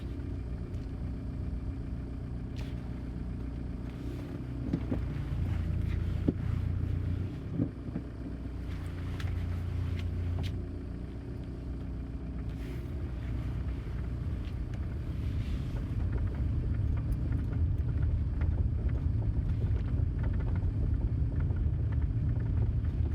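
A car drives along at a steady pace, with loud continuous road and engine rumble and wind buffeting throughout and no speech.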